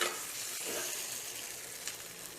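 Tomato paste sautéing in oil in a pan gives a dense, even sizzle up close, with a light stir or scrape near the end and no talking.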